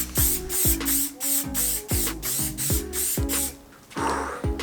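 An aerosol can sprays paint onto an old mountain bike in quick repeated bursts, each a short hiss separated by brief pauses, close and fairly loud, with a rattling mechanical undertone.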